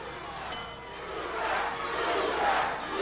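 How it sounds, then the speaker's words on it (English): Wrestling arena crowd at a WCW event chanting for Lex Luger, a broad rolling roar of many voices that swells and ebbs steadily, moderately loud and somewhat distant, with no clear speech on top. "you can hear the crowd chanting Luger"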